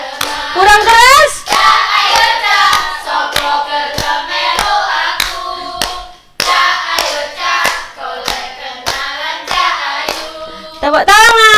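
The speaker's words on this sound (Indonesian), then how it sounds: "Tepuk tangan." A school class claps along in steady rhythm during a lively sung song, sharp regular hand claps punctuating children's singing voices, loud and close throughout.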